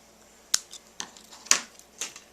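Scissors cut through card paper for a handmade Mother's Day card, giving four sharp snips spaced about half a second apart, close and crisp against a quiet room.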